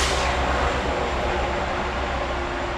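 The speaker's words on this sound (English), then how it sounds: "These have been some real low-ball trains going through here" A train rolling past in a continuous broad rumble and rushing roar, loud and close, steady throughout with no voices.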